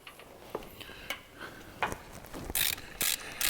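A hand ratchet tightens bolts holding a power steering pump back onto an LS-swapped engine: scattered light clicks and taps build into several loud, harsh ratcheting bursts near the end, heard up close with no voices.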